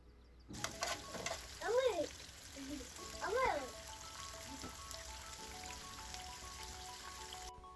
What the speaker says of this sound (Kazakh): тауықтың қанаттарын дәл осылай қызып тұрған майда қуырып аламыз